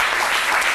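Applause from a TV studio audience on a midday talk show, a short steady burst of clapping filling the room, close and even throughout.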